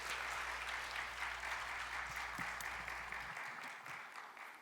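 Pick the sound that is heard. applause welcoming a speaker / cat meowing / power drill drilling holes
applause welcoming a speaker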